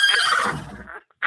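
A horse neigh sound effect, a single loud whinny that shakes and falls in pitch before fading out, heard alone and close.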